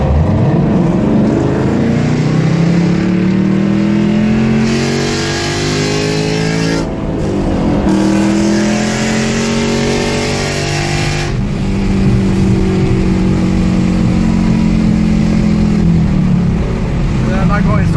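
Several cars race and rev hard at a busy car meet, loud, close engine notes rising and falling in long sweeps with brief gaps between passes, speech faintly mixed in.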